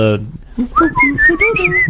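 A short, bright whistled tune from an Old Spice advertisement rising and falling over a few notes, close and clear, following a brief voice at the start.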